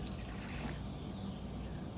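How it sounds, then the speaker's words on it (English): A cup of Jik bleach is poured out in a steady, close trickling stream that runs evenly for about two seconds, with no other sounds over it. "Now when I pour it"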